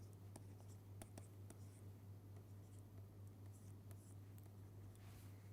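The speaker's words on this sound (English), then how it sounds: "So, I will write that here." Chalk or marker taps and scratches on a board in short strokes, fairly faint, with a steady low electrical hum behind it.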